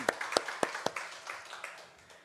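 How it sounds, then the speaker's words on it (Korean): A Korean church congregation claps during a Sunday worship service, a handful of separate sharp claps in a loose, irregular rhythm that trail off and grow fainter after the first second. "우리 하나님께 영광의 박수 올려드립니다."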